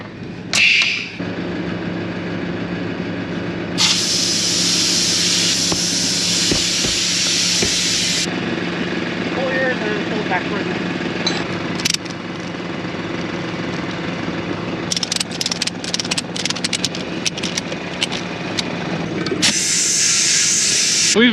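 A wheeled air compressor pumps air into a flat tractor tire on a spreader, loud hissing bursts starting and stopping over a rumbling engine drone, heard up close.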